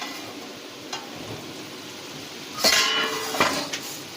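A metal lid comes off a cooking pot of hilsa fish head and Malabar spinach, giving a couple of close clattering scrapes and clanks with a soft hiss of steam between them, alone and without talk.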